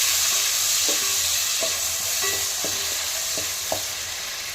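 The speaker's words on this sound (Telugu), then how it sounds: "ఆనియన్స్ లైట్ గోల్డెన్ కలర్లో వచ్చాయి ఫ్రెండ్స్. ఇప్పుడు మనం టమాటా వేసేద్దాం." Tomatoes go into onions already fried light golden, giving a continuous loud sizzle in a pan with a few sharp spoon scrapes and taps of stirring spread through it.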